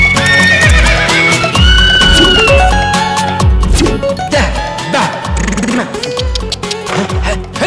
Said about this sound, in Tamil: அப்புறம் குதிரையும் ரொம்ப டயர்டா இருக்கு